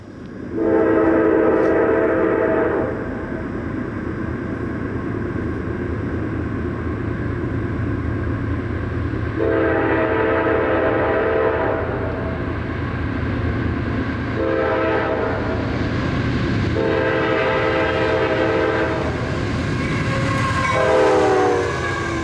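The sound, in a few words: 143-car freight train pulled by two locomotives, Kingston, New York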